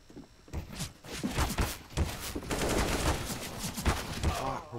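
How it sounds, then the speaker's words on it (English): Gunfire in Counter-Strike: Global Offensive, a rapid series of close, punchy shots in irregular bursts from automatic and single fire, loud and steady with faint footsteps between. "Which fucking side am I being shot from, game?"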